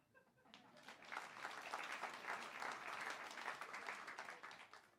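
Comedy show audience breaking into sustained applause, a dense wash of clapping that swells quickly and holds steady, moderately distant, with no talk over it.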